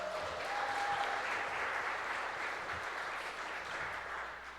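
Applause from the audience at a youth oratorical contest, steady clapping that holds fairly even before gradually thinning and fading toward the end, with a brief high tone near the start.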